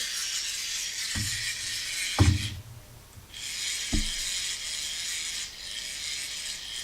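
A battery-powered toy replica of the 1989 Batman grappling hook rewinds its line with a steady whirring motor hum and a few sharp mechanical clicks and clunks, close up, broken by a brief pause.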